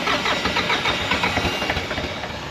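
Tractor engine starting in winter, with a loud cranking chug that catches and settles into a steady, slightly knocking idle, heard up close without talking.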